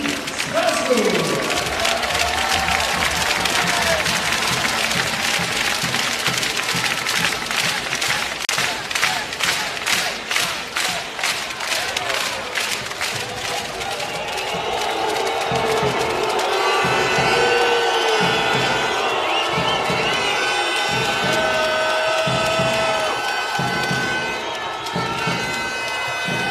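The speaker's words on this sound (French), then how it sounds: "applaudissements aux deux équipes, applaudissements pour l'Asvel Longue-Norval et applaudissements pour la CIC Strasbourg." Crowd in a basketball arena at a French Pro A playoff semifinal between ASVEL and Strasbourg cheers and claps loudly for both teams, with a long sustained roar that breaks into rhythmic chanted clapping in the second half.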